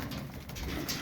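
Birmingham roller pigeons cooing, soft low throaty coos nearby over a steady background hum, brief and without voices.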